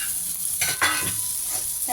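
Pomfret fish fries on a hot tawa with a steady sizzle. A couple of stirring or scraping strokes rise briefly above the continuous hiss.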